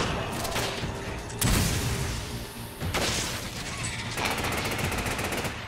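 Enemy gunfire in Resident Evil 5, dense bursts of automatic shots and impacts cutting in repeatedly over a noisy game background, loud and close.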